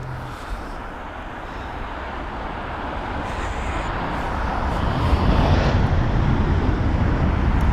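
A British Airways A320 at London Heathrow gives a broad rushing jet roar that swells steadily from moderate to loud as it nears, with no voices over it.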